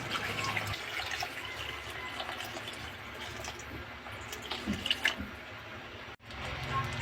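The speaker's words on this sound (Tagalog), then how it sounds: "Dagdag lang ng 1 drum ng tubig." Water is poured into a cooking pot with squash and pork, splashing and trickling steadily at close range before a brief cut near the end.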